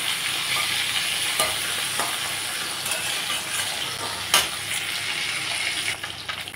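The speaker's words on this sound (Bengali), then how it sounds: "বাকি মাছগুলো আমি ঠিক এইভাবে উল্টাপাল্টা করে ভেজে নিলাম" Tangra fish fry in oil in a pan, giving a loud, steady hiss and sizzle close up, broken by a few sharp pops and clinks as the pieces are turned.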